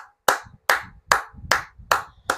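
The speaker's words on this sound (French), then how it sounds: "Applaudissez pour Ibrahim Traoré." Clapping in honour of Ibrahim Traoré: six sharp, evenly spaced claps, close and clear, with silence between them and no voices.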